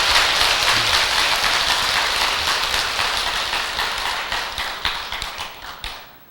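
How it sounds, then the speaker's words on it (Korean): An audience at a Buddhist monk's talk claps together, dense applause starting strong and gradually thinning out into scattered claps before stopping. "박수 한번 보내주세요."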